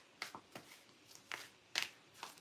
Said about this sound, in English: I need to shuffle my cards.